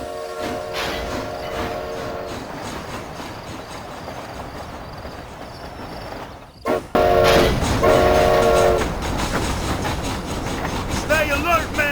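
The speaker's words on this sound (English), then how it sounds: "This train headed for Mexico." A train rolls along in Red Dead Redemption: Undead Nightmare, a steady rumbling ride with horn-like tonal blasts near the start and again louder after a brief dropout midway, with voices talking over it.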